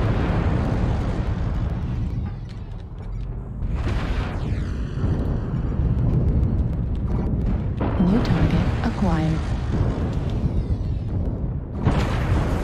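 Airstrike bombardment in the mech combat game MechWarrior Online, with a string of loud, rumbling explosions rolling one after another across about twelve seconds, mixed with whooshes and crackling debris.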